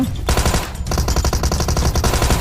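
Rapid automatic gunfire in the mobile shooter game PUBG Mobile, loud bursts of rattling shots firing almost continuously after a brief opening pause.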